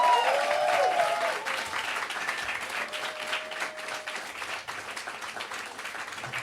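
Audience applause at a French talk event, steady dense clapping from a crowd throughout, loudest at the start and tapering only slightly, with no voices over it.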